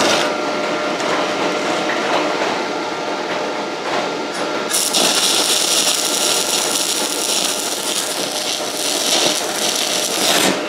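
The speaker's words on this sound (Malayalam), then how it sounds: "ഇനിയിപ്പോൾ ഒന്ന് വെൽഡ് ചെയ്ത് നോക്കിയാണ്. വെൽഡിംഗ് മെഷീൻ ഓൺ ചെയ്തു." Arc welding with an MMA200A mini stick welder on 12 gauge metal: a continuous loud crackling hiss that brightens and intensifies partway through, steady and close.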